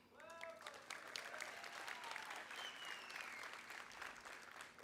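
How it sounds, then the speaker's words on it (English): A crowd at a school graduation ceremony applauds a graduate, steady continuous clapping at a moderate distance with a few cheers and faint voices rising over it. "please stand up so that we can applaud you"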